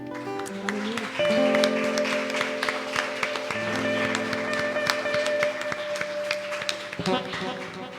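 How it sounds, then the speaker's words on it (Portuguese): A church congregation at a Sunday worship service claps to praise the Lord, the applause running under sustained keyboard chords and music, with the clapping steady and moderately loud. "Você pode dar uma salva de palmas ao Senhor"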